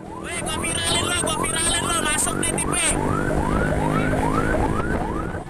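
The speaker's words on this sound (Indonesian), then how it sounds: "Pengemudi mobil tak mau memberi jalan ambulans yang sudah membunyikan sirene sebagai tanda kedaruratan." An ambulance siren wailing in city traffic on a street in Ciputat, Tangerang Selatan, as a car blocks its way, a loud rising-and-falling electronic wail that repeats steadily, with a faster warble at first, close and continuous.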